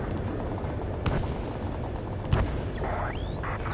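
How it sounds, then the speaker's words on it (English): Gunfire and jet roar in an Ace Combat 7 mission over a city under martial law, with sharp scattered shots and a distant jet sweeping past over a steady rumbling background. "Gunfire and the roar of jets echoing through the streets"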